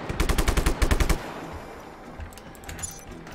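Rapid automatic gunfire from the open-world action game Just Cause 3, a loud dense burst of shots for about a second that then gives way to quieter scattered battle noise and distant pops.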